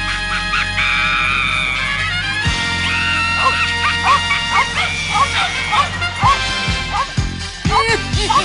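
Dog barking and yipping in a Peruvian comedy stage show, a string of sharp barks and whimpers in quick bursts under a sustained tone and lively voices.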